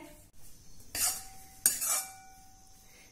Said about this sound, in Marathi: आता अगदी मंद गॅसवर हे खोबरं हलक्या तांबूस रंगावर आपण भाजून घेऊया